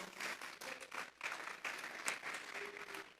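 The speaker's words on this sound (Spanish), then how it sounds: "Vamos a darle un fuerte aplauso pues al Señor." A church congregation applauds in worship after a sermon, a moderate, somewhat distant wash of clapping with a few sharper hits rising and dipping over three seconds.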